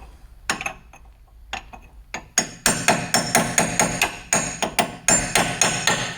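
A hammer strikes a chisel against the axle nut of a 2004 Subaru Impreza STi, sharp metallic clanks, a few sparse ones first, then a fast steady series of ringing blows, close and loud.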